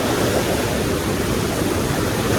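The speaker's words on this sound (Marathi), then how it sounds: "जबरदस्त नदी आली. आणि फुल लाटा वगैरे मारतात, हे बघा लाटा वगैरे येतात एकदम." A flooded village river in the Konkan rushes and surges with waves, a loud, steady, dense roar of churning water filling the whole stretch without pause.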